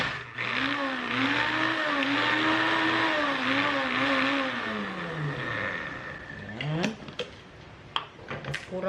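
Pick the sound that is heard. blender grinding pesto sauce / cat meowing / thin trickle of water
blender grinding pesto sauce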